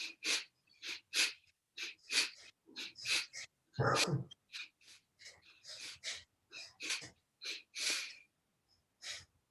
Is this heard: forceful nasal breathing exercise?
yes